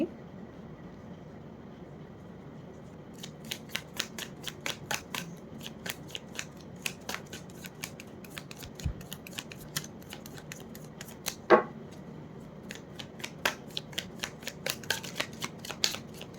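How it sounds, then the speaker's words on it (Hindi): Tarot cards drawn and handled during a soulmate reading: a long, irregular run of crisp papery flicks and snaps, close by, with one louder slap near the middle over a quiet room background. "चलिए निकालती हूँ कार्ड्स में सारे।"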